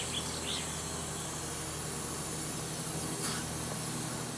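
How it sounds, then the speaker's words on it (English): Red PlastiKote spray paint hisses steadily from an aerosol can onto pine cones, a continuous close spray running the whole time with no talking. "I'm going to spray some pine cones red"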